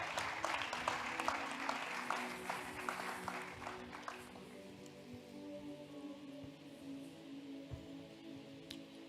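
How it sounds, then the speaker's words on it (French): A church congregation at a French-language service claps together in a dense, fairly distant patter for about four seconds, then the applause fades into a quiet room hum. "On peut acclamer pour la parole ce soir."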